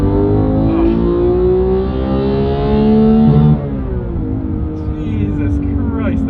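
A naturally aspirated Porsche 718 engine, the same unit used in the GT3, revs loud and close, its pitch climbing steadily before dropping back and settling around the middle of the clip, with possible talk underneath.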